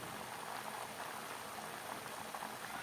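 Meat that has just been poured into a pot sizzles with a continuous, even bubbling hiss, like something boiling, close to the microphone and heard alone.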